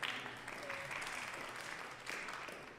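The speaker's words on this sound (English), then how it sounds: "You give Cal a clap" Applause from a small audience at a live folk music show, fairly quiet and a little distant, holding steady across the moment with a slight swell near the end.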